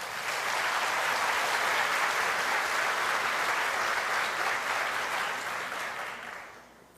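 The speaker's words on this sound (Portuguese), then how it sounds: "Aplauda o Senhor." Church congregation clapping during a worship service, a steady, full round of applause from many hands that holds evenly for several seconds and then tapers off.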